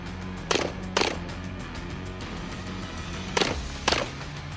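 Four sharp gunshots during an army moving-fire training drill, fired in two pairs with roughly a half-second gap inside each pair, loud and near over a constant rumbling background.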